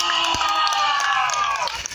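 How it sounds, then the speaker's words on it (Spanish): Children's audience clapping and cheering for the boys, a dense continuous roar of hands and shouts filling the space, close and loud throughout. "¡El aplauso para los"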